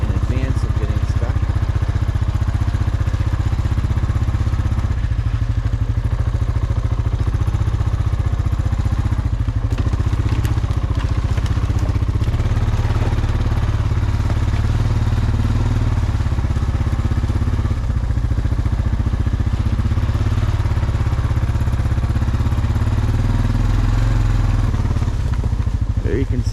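Honda Foreman ATV engine running steadily while riding off-road through wind-damaged woods in four-wheel drive, a continuous low rumble with some clatter throughout, loud and close.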